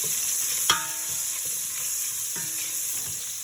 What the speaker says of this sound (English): Saute down, just make sure you constantly check your garlic, making sure that they don't burn.